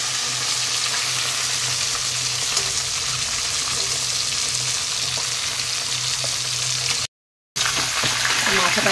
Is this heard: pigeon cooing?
no